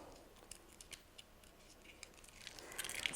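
Scissors snipping around adhesive craft vinyl during weeding, quiet close crisp clicks and rustles that repeat irregularly, growing a little busier toward the end.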